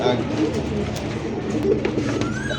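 Satinette pigeons coo in low, soft, repeated calls close by at a pigeon market, with a person talking over them.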